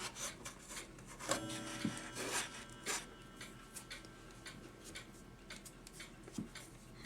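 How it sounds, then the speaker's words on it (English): Screws are driven back into the wooden case of a 1910 Waterbury calendar clock, with quiet, close rubbing and scraping strokes and a few sharper clicks, and no talking. "I put these screws back in."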